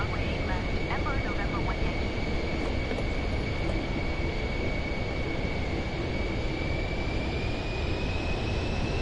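A Pilatus PC-24 business jet on its takeoff run in Microsoft Flight Simulator 2024 on PS5 gives a loud, continuous engine roar with a steady high whine, unbroken for the whole stretch.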